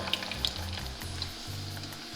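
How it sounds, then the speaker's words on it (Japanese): Carrots deep-fry in hot oil at about 180°C in a small pot, sizzling and crackling steadily close by, with a low bubbling hum underneath and a few sharp pops. "小さめの鍋を選んで最小限の油で揚げていきましょう"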